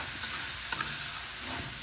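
Rice being stirred as it fries in a pan on a home stove, a steady sizzle with a few scraping spoon strokes, close and alone with no voices.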